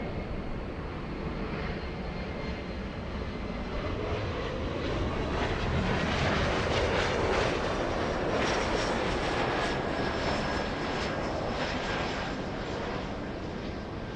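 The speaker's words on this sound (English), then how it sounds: "That is a very early turn for the Dreamliner flying in from Hong Kong." A Boeing 787 Dreamliner arrives at LAX from Hong Kong with a continuous, broad jet roar that swells gently in the middle and stays fairly distant throughout.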